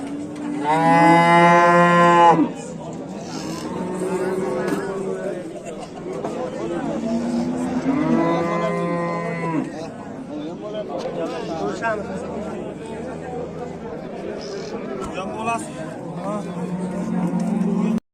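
Several loud cows, including a Swedish-breed cow, moo nearby at a cattle market, with long drawn-out calls amid background chatter from a few people.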